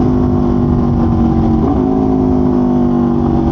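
An Aprilia superbike engine, tuned, roaring loud and close with a sustained, buzzy drone that blips briefly midway like a downshift before settling back into a steady high-revving tone.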